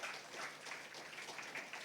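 A church congregation claps together in a steady, continuous patter, moderately quiet and with no voices over it.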